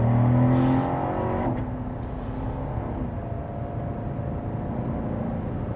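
A Corvette C7's deep V8 engine growls close by, a low throaty rumble holding steady after an initial rev, with no voices.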